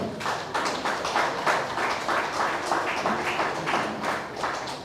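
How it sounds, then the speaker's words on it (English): Audience applause at the closing ceremony of the 22nd INSYMA, a steady, dense patter of many hands clapping together for several seconds at moderate loudness. "A round of applause for our Citigroup, our partners again in this special program"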